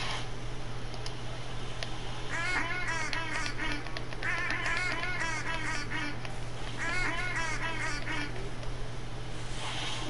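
Ducks in the hunting game theHunter: Call of the Wild quack in three clustered bursts of rapid calls over a constant low ambient hum, with no talking.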